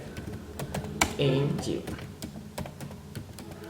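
Typing on a computer keyboard while editing HTML code, a run of quick clicky keystrokes with brief pauses, heard close under someone speaking.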